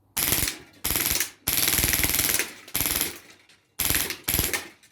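HPA Wolverine MTW SBR airsoft gun firing fully automatic, several loud rapid bursts of snapping shots separated by short pauses, close and crisp with no talking.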